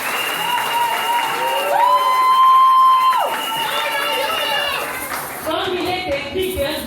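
An assembly breaks into sustained applause and cheering at a diploma of merit ceremony for orators. Steady clapping fills the hall while voices and long, held tonal cries ring out over it.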